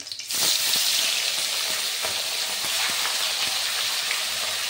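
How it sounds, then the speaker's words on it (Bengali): Bata fish sliding into hot mustard oil, bursting into a loud, steady, close sizzle that carries on evenly with faint spatters and no talk. "তেলের মধ্যে ভেজে নেব। আমি সরষের তেলে ভাজছি।"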